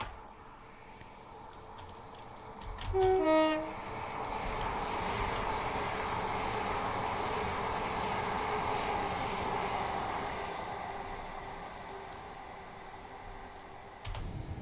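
A Class 387 electric train passing by in a train simulator game, a rising rush of rolling noise that swells then fades over several seconds, preceded by a brief tone, with no talk.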